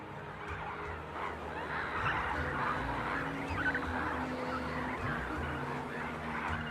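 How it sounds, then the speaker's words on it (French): Flocks of migrating flamingos and storks at a wetland in the middle of the desert make a steady, dense chorus of honking and gabbling calls, many birds at once and at a distance. "flamants roses et cigognes font escale dans cette zone humide, au cœur du désert"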